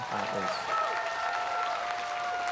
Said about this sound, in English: I'd like to hear a big round of applause for Rob